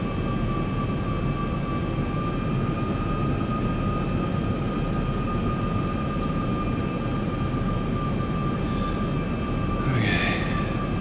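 Steady, loud airliner engine drone inside the X-Plane flight simulator on a CYOW to CYYZ flight, a continuous broadband roar with a constant high whine running throughout, no voices.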